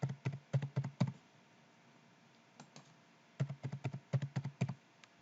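Clicky computer keyboard keys pressed in two short runs of quick taps, a six-digit password typed and then typed again, close and fairly quiet, with a pause between the runs.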